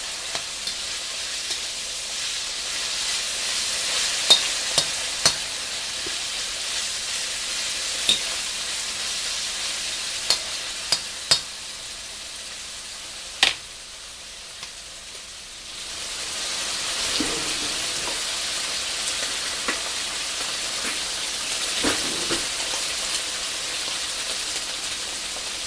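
Tofu browning in a hot pan, a steady sizzle that drops briefly and then swells again, marked by occasional sharp clicks and taps.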